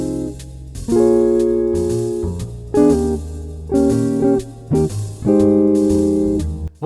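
A jazz guitar plays a simple chord melody in drop 2 voicings, clear strummed chords ringing out one after another with brief gaps between phrases, close and unaccompanied.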